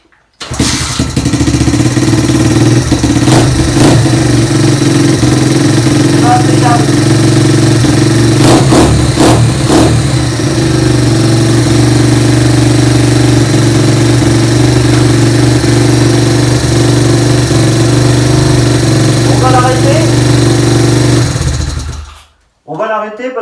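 A brand-new dirt bike engine on its first start runs loud and close at a steady idle for about twenty seconds, with a few blips of throttle. Then it is switched off and cuts to near silence.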